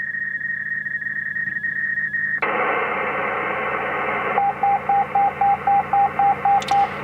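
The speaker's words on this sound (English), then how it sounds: "That's the base station dialing my phone number" An HF radio base station dialing a phone number over the air: a continuous tone, then a burst of hiss, then a rapid run of about ten evenly spaced dialing beeps, loud and close.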